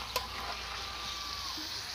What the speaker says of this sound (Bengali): ভেজে রাখা ফুলকপি আলু দিয়ে ভালো করে আমি কষিয়ে নেব।